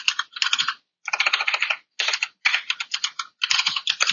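Keys clatter on a computer keyboard in quick, close bursts of typing, a line of text entered in short runs separated by brief pauses, with no voices.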